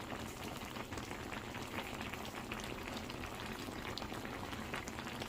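Plum jam boils hard on high heat in a pot, giving a continuous, dense, close bubbling and popping hiss with no pauses.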